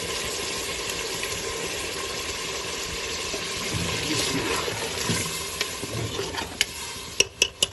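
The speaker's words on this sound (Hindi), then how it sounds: "अब इसमें थोड़ा सा पानी ऐड करेंगे कि मटर जो है अच्छी तरह गल जाए" Water is added to a pot of beef and pea keema, giving a sizzling, bubbling hiss under stirring, followed by a few sharp clinks of a utensil against the pot near the end.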